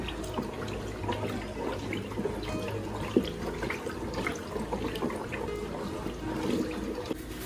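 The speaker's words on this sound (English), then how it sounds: "Now you pour it gently into the water." Liquid soap ingredient poured gently into water while making homemade liquid soap, a steady running, splashing pour with light drips, continuous and close for several seconds with no talking.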